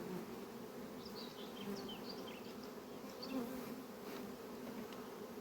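A dense swarm of honey bees hums steadily in a hive, a continuous buzzing drone close by with no voices.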